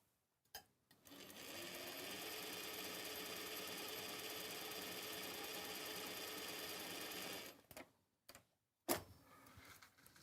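A sewing machine stitches bags in one steady whirring run of about six seconds, close and clear, framed by a few clicks and knocks before and after.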